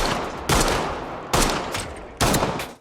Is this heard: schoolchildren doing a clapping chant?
no